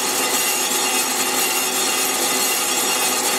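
Steady, loud, continuous grinding with no gaps as weld is ground down on the worn rear main seal surface of a Willys Jeep crankshaft using light cuts, close up, no talk.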